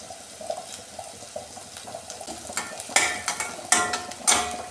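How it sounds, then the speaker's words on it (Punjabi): Onion and green chillies fry in a pan until browning, with a low bubbling sizzle and wet stirring, then louder bursts of hissing and spatula scrapes toward the end. "ਹੁਣ ਪਾਵਾਂਗੇ ਹਰੀਆਂ ਮਿਰਚ ਇਸ ਨੂੰ ਅਸੀਂ 2-3 ਮਿੰਟ ਭੁੰਨਾਂਗੇ"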